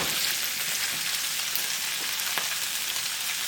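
Shrimp sizzle and crackle steadily in preheated oil in a non-stick pan, a soft continuous frying hiss with small pops, heard alone.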